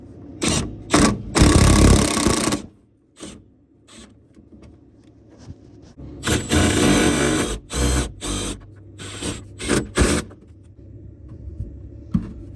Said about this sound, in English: let's get those self-tapping screws in.